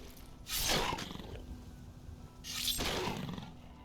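A saber cat in the video game Skyrim lets out two loud, growling roars about two seconds apart over steady game ambience, with no talking.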